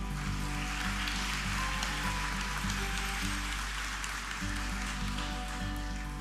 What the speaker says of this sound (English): How about a big round of applause for our child and youth care worker graduates?